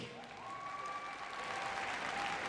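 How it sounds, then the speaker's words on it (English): Spectators at a Crufts heelwork-to-music dog competition applaud a competitor, a broad, even patter of many clapping hands that holds steady and swells slightly toward the end, with a thin tonal line running faintly underneath. "Give her a big round of applause"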